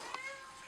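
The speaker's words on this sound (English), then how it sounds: "you can get a cat in the background" A cat meows softly in the background, one brief faint call amid a quiet indoor room.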